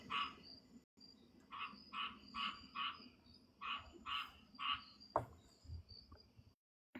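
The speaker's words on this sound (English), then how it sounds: "My frog is talking to Paris's frog" Frog croaking in bursts of about seven rhythmic calls, fairly close and clear, with a low background hum and a few brief knocks near the end.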